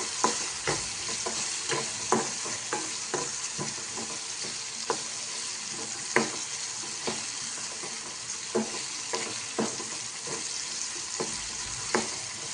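Turmeric powder being stirred into prawns frying in a pan for a spicy curry, with repeated scraping stirs over a continuous bright sizzle, close and steady, no talking.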